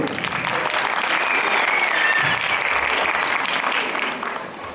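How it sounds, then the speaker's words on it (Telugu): An audience claps steadily after a children's dance performance at a Sri Krishna event, dense applause holding loud and even throughout before easing slightly at the end. "ఒకసారి చప్పట్లు కొట్టండి మీరు"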